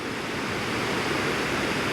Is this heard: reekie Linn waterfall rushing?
yes